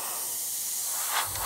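A steady, even hiss of an airbrush spraying fine paint runs close and continuous throughout, with a slight surge in the airflow near the end.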